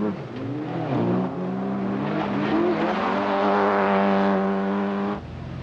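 Rally cars in a 1990 Yorkshire forest rally, a Vauxhall Astra and a Peugeot in the 2-litre class, engines revving hard and climbing through gears as they pass close and loud, then cutting away.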